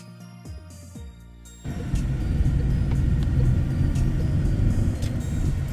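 Car on the road carrying kittens, with a steady broadband rumble of tyres and engine that rises sharply after a quieter opening and holds loud and continuous.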